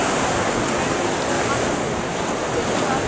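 Water splashes and rushes steadily on the Burg Falkenstein ride at Holiday Park, a dense, continuous hiss that stays loud and close throughout without breaks.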